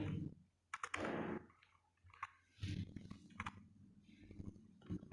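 Python code being typed on a computer keyboard, quiet bursts of close key clicks separated by short pauses, with no talk.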